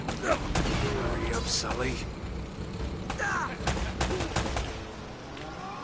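Gunfire in the video game Uncharted: Drake's Fortune, scattered shots and bursts crackling through a dense game soundscape while a character's voice speaks over the action.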